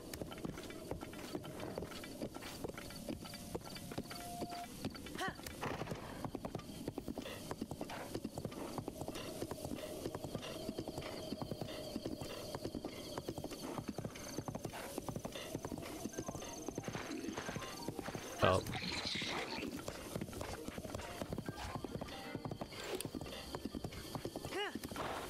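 Rhythmic hoofbeats of a galloping horse in The Legend of Zelda: Breath of the Wild, steady and continuous at moderate volume, with a brief whinny and someone talking over it.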